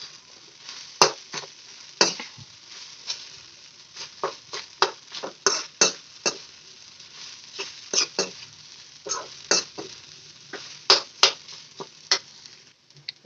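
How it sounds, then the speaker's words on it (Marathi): Boiled potatoes being stirred into sabudana khichdi in a pan for a fasting recipe, giving repeated close scraping and soft sizzling strokes in an irregular rhythm, with no talk. "आता याच्यामध्ये उकडलेले बटाटे टाकू आपण त्याला मिक्स करू"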